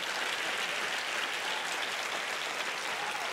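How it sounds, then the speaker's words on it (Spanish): A church congregation applauds during a sermon, a continuous, even wash of many hands clapping at a low, distant level. "Dele fuerte ese aplauso al Señor."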